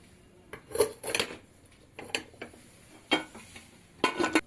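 A metal tin of eggless Christmas plum cake batter is set into a preheated pressure cooker, giving a few sharp metallic clinks and clatters spaced over several seconds in a quiet kitchen.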